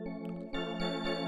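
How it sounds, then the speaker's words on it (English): An Undercurrent polysynth patch in FL Studio holds a sustained chord close and clean, its tone swelling in soft pulses with no voices over it. "I got this undercurrent plus polysynth."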